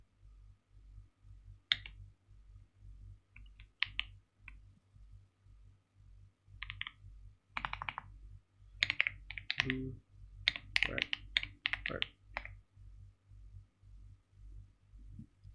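Someone types on a computer keyboard at a Linux desktop, with quiet, irregular key clicks that build into quick, close bursts of taps with brief pauses between.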